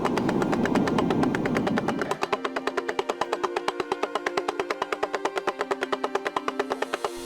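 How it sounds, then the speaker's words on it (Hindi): A damaru, a small hand drum, rattles in a fast, even rhythm of sharp clacks, continuing steadily after a brief noisy opening. "ये तो डमरू की ध्वनि है।"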